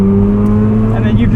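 A 1990 Mazda RX-7 FC with its rotary engine hums steadily from inside the cabin during a canyon drive, a loud, continuous low drone with sustained tonal bands and no break.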